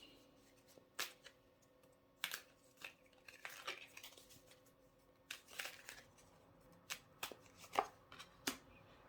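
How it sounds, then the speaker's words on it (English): Tarot cards being shuffled and drawn for a reading, giving a series of quiet, crisp snaps and riffles spaced irregularly, close by with no talk over them. "Let's get these 3 cards out for you."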